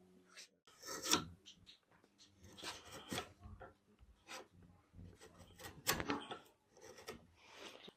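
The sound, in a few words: chisel shaping a wooden tip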